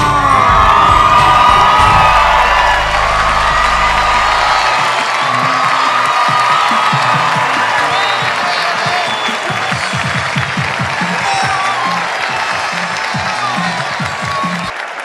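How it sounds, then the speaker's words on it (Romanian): A crowd at a rural Romanian beauty pageant cheers, whoops and applauds a winner, with children shouting in the mix. The roar is loud and sustained throughout, with a low musical rumble at the start. "aplauze pentru câștigătoarea din Comuna Poieni"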